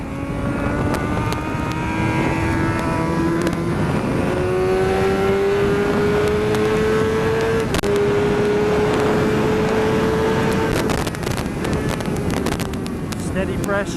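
A car accelerates hard while lapping a track, its engine note climbing steadily in pitch through long pulls over a constant loud roar of wind and road noise, with no voice.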